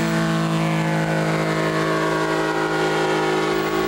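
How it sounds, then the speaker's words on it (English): A 40-horsepower engine powers a 180-pound powered parachute over a farm field, giving a loud, steady droning hum with a constant pitch and no pauses throughout. "his 40-horsepower engine and 180-pound machine propels him towards the sky"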